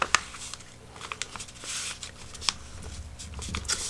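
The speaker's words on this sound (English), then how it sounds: "now we have our little top flap up here that we're going to fold down towards the middle" A sheet of paper for a four-pocket folio is folded, its top flap pressed down toward the middle, giving soft close crinkles and a few sharp crisp creases over a low steady background hiss.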